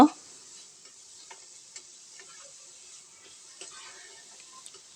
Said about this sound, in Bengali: এখন এটাকে আমরা সুন্দর করে ভেজে নেব